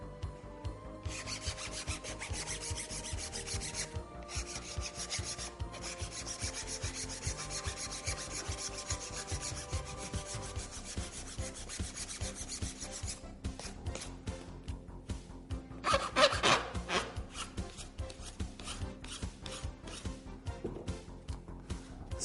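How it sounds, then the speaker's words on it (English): Cured Q-Bond repair on a chipped wheel cover being sanded by hand, a quiet, continuous dry rubbing and rasping with quick back-and-forth strokes, briefly louder near the end, no voices. "We can sand it off."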